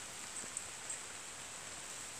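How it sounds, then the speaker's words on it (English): Rain falls steadily outdoors on a wet Saturday morning, a faint, even hiss with a few soft drop ticks and no voices. "It's raining, nasty weather out here."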